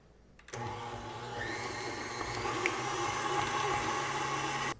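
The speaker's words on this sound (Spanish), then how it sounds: "Vamos a comenzar a batir el queso crema y la crema." An electric mixer beats cream cheese and cream with a steady, close whirring motor hum that starts abruptly and runs evenly before cutting off at the end.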